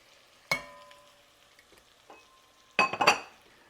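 Flour cooks in sausage grease for biscuit gravy in a pan, with a low quiet sizzle. Two bursts of a spoon scraping and clinking against the pan stand out: one near the start and a busier cluster later.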